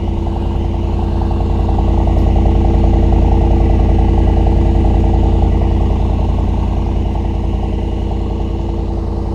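A 2022 Mercedes SL 63 AMG V8 idling after a push-button start, a loud, close, steady deep rumble with even low pulsing and no change in revs, heard alone without talk.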